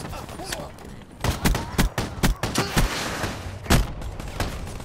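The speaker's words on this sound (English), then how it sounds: "Just using a shotgun." Shotgun blasts in Call of Duty Black Ops 3, a string of sharp, loud booming shots spaced irregularly over a few seconds, with game noise beneath.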